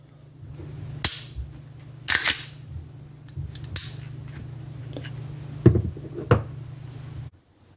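Glock 43 pistol being function-tested, its slide racked and trigger dry-fired: several sharp metallic clicks and snaps spaced a second or so apart, close and clear over a low steady hum, ending abruptly.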